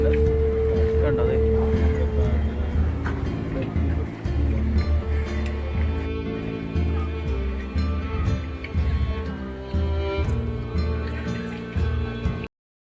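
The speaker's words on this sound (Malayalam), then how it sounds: "10-40 പേർക്ക് കയറാവുന്നൊരു ചെറിയ ബോട്ടിലാണ് നമ്മളിപ്പോൾ കയറിയിരിക്കുന്നത്" A small passenger boat carrying around forty people from Marine Drive, Kochi, drones with a steady low engine rumble and water noise throughout, with people talking on board.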